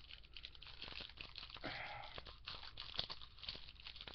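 A 1996 Bazooka baseball card pack being torn open by hand, faint crinkling wrapper noise with a short rip in the middle, close and quiet, no talking.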